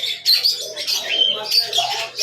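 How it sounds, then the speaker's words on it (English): Cockatoo giving a run of harsh, high chirping calls close by, several bursts in quick succession over about two seconds with no talking. "That's a cockatoo."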